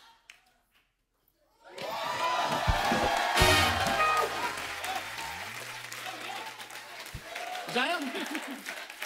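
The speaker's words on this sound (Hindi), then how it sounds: "तालियां मेरे लिए, तालियां।" After a brief silence, a TV comedy show studio audience bursts into sustained clapping and cheering that carries on steadily, with a few whoops mixed in.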